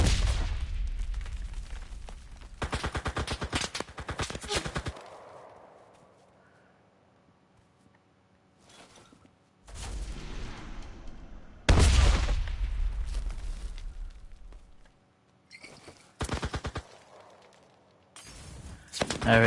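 Shooter game CRSED: loud bursts of gunfire, then grenade explosions that boom and rumble away, separated by quiet gaps.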